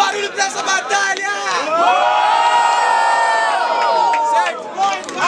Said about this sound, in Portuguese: Faz muito barulho pra essa batalha!